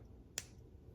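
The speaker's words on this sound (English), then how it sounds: "Trim your wire." A single sharp snip as jewelry wire is cut with pliers while making sparkly dangly earrings, one brief crisp click over a quiet background.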